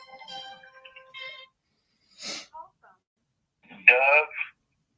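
An incoming call rings through on a talk show's phone line: a few short electronic ring tones at the start, then brief bursts of voices and line noise with silent gaps between.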